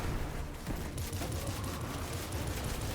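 In the Destiny 2 video game, the Dragon's Breath rocket launcher fires amid dense combat noise. A rapid, rumbling barrage of explosive bursts and crackles runs loud and continuous for the whole stretch.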